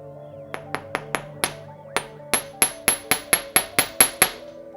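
A metal jewellery ring hammered on a bench block over a towel, about fifteen sharp ringing metallic taps in an uneven series, a short pause, then a faster run of strikes, close and clear with no talking.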